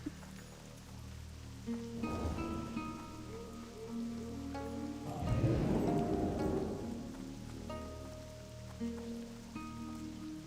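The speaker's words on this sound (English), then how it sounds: "Of course it is raining." Video-game rain falls steadily across a fantasy mage adventure, a soft continuous patter with two louder swells, heard alone beneath a faint musical bed.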